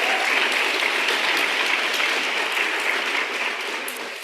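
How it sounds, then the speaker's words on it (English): Loud, sustained applause from a college reunion audience, a thick, even roar of many people clapping that stays near and strong before easing off slightly at the close. "Let's do another round of applause for Amy."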